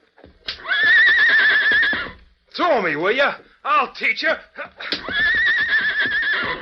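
Horse neighing loudly in a Western audio drama scene at a hitch rail in a frontier town, with long whinnies at the start and end and a voice speaking angrily in between.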